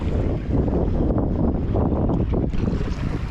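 Inflatable sib boat driven by a Parsons 6 horsepower outboard motor fitted with a different propeller for more revs, out on choppy sea on a sunny day. Continuous loud engine and hull noise mixed with wind buffeting the microphone throughout, no speech.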